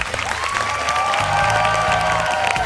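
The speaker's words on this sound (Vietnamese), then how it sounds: "một tràng pháo tay lớn lên được không ạ?" An audience at a Vietnamese street dance competition show applauds in a dense, steady wash of clapping and light cheering, with music or tonal sounds layered faintly underneath throughout.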